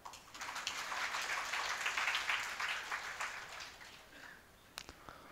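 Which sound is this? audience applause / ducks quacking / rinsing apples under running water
audience applause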